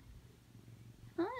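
A cat of 13 years, heard indoors in a bedroom: low soft purring rumble for about a second, then a brief louder meow at the end, close by with no talk.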